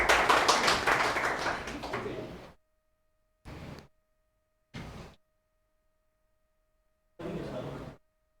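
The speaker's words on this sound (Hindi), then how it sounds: "मानवेंद्र सर के लिए तालियां" Brief bursts of clapping for a teacher at a Teachers' Day school celebration, a longer round of applause followed by three short separated bursts with silence between them.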